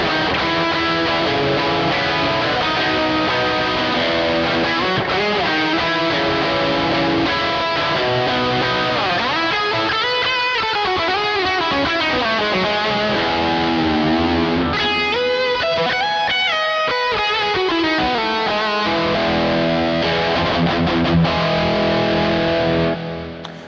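Ambient electric guitar on a Kemper Player Wizard profile, with Halo and Skylar effects run through the amp's effects loop: a continuous wash of distorted chords and wandering melodic lines with heavy delay and reverb, loud and dense throughout, no voices.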